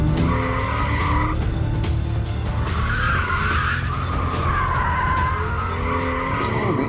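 A Ferrari 488 drifts with its tyres skidding and squealing in a loud, continuous screech over a steady engine roar, swelling and easing as the slide is held for several seconds.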